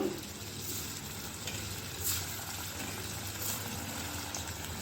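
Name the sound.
kofta balls deep-frying in hot oil in a wok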